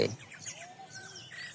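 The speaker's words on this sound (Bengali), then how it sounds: "এখানে নির্বোধভাবে পাখিরা কোলাহল করছে" Birds chirp and call over rice paddy fields on a foggy village morning during rice seedling planting, a few light faint tweets and short whistled notes with no talk.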